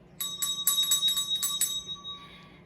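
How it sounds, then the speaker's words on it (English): A small hand bell rung to call children together for story time, giving a rapid series of about eight bright, ringing strikes over two seconds, then a short fading ring, clear and close with no talk. "So first, we'll ring the bell."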